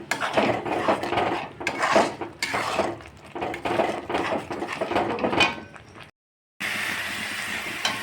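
Prawn masala sautéed in a pan for a midday Bengali prawn dish, a spatula scraping and clattering against the metal in busy repeated strokes, close and fairly loud, with a short silent break before a steadier sizzle resumes near the end.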